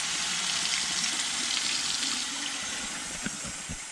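Steady rushing water pours from an outdoor faucet by the South Fork of the Boise River, a continuous broadband splash with a few faint knocks near the end.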